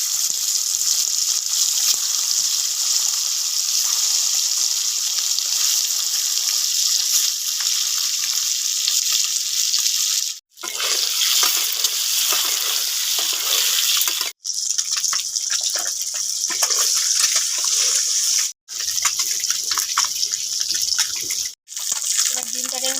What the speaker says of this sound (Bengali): এবার ডিমটাকে আমি ভালোভাবে ভেজে নিয়েছি